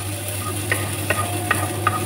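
Moringa leaves and egg stirred in olive oil in a pan, a soft constant sizzle punctuated by four evenly spaced spatula scrapes, close and alone.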